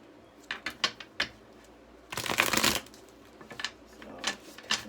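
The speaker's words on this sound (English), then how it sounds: "let me shuffle and get these together" Tarot cards shuffled by hand in a quiet room, a few sharp flicks and riffles followed by a dense burst of rapid card slaps, then more scattered snaps, close and fairly soft.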